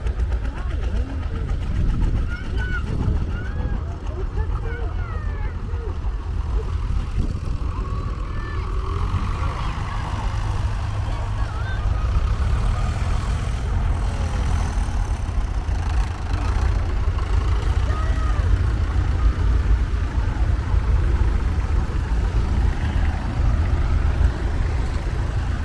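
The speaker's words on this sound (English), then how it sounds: "Tractors are heading out now." Several old vintage tractor engines, including a Minneapolis Moline and a David Brown, rumble and chug steadily at close range, a low idling drone with a crowd murmuring in the background, at an outdoor vintage machinery show.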